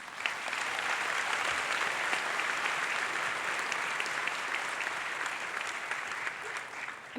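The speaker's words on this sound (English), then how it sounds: "let's have a round of applause again for all of our award winners" Sustained audience applause for award winners at a medical college hooding ceremony, a broad, steady wash of many hands clapping at even intensity across the hall, continuing without pause.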